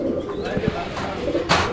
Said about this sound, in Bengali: এটা হচ্ছে চুইনা কবুতর ভাই